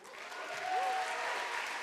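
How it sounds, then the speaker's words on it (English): Sustained audience applause at a public evening event for visiting Parkland survivors in Charleston, South Carolina, a steady dense wash of clapping that swells slightly midway, with a faint whistle-like tone over it. "Let's give a big round of applause and a big thank you to our March for Lives team"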